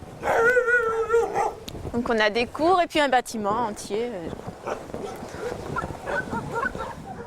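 At an animal shelter in Montier-Chaume housing about ninety dogs, several dogs bark and yelp in repeated, fairly close, loud bursts, overlapping someone speaking French.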